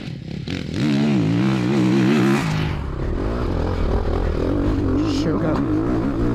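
A Ducati Desmo 450 dirt bike engine revs hard on a rough motocross track, pitch climbing and falling through gear changes, loud and close, with a commentator's voice over it.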